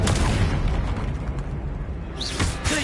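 A Confringo spell blast in the Hogwarts Legacy video game, a loud rumbling explosive boom with dense low-end energy that decays into roaring noise, followed by a brief whooshing flare near the end.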